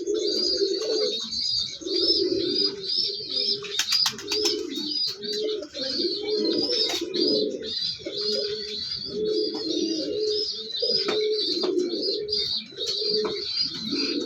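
Pigeons coo steadily at close range in a loft, deep repeated coos over and over with soft chirps and a higher call mixed above them throughout.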